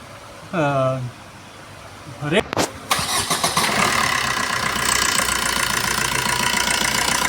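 A Maruti Suzuki Swift engine cranking and catching after a water pump replacement, then settling into a steady close idle; a short tonal sound comes before the start.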